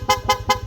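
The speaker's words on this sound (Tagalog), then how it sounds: "busina," A Yamaha NMAX scooter horn gives a quick series of four short, loud, evenly spaced beeps, close by.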